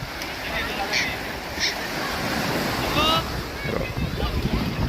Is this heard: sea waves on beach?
yes